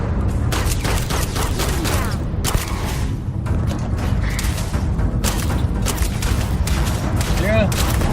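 Gunfire in the video game Starfield, dense rapid shots and booms layered over continuous loud combat noise, with voices talking throughout.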